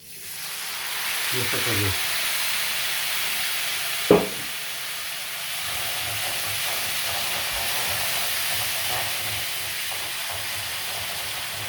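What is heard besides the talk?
white wine (Ribolla Gialla) sizzling as added to risotto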